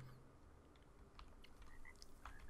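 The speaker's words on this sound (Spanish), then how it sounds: "estos sí son ranas" Several short croaks from frogs in the video game ARK scattered over a steady ambient background, irregular and fairly faint, with no voices.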